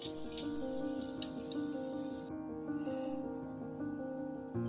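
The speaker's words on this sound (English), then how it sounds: "I'm going to finish frying up the rest" Vegan zucchini fritters frying in a pan sizzle steadily up close at a quiet level, with a few sharp pops and a constant low hum underneath.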